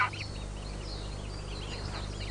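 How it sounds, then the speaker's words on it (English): Newly hatched greylag goose goslings give thin, high peeping calls, several short chirps scattered over a low steady background hum, faint and somewhat distant. "The young greylag geese have just hatched."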